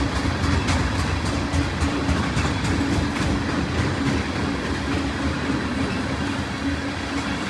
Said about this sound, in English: Symbol on this train is Norfolk Southern T53.